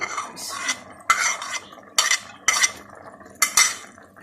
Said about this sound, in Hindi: अब मैं अच्छी तरह इसको भूनूंगी।